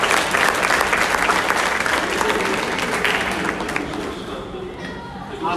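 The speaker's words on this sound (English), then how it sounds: "Please, a round of applause for her." A full room claps in a dense, steady round of applause at a Rotary District 9141 education and literacy event, loud at first and gradually easing off over several seconds.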